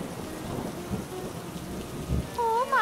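Steady rain falls with a low rumble of thunder in a cartoon scene, the downpour continuous and moderately loud, joined near the end by a rising wavering tone.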